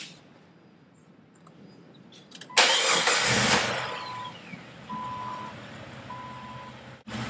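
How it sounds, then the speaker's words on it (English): A car engine cranks and catches, then settles into a steady idle, loud and close, with a faint tone pulsing over the running engine. "So now let's start the car."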